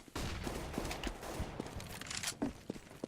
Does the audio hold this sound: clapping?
no